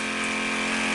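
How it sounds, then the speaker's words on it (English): Steady, close rushing of a boat's water pump pushing water out, a continuous gushing hum with a low tonal drone throughout, no speech. "Water coming out"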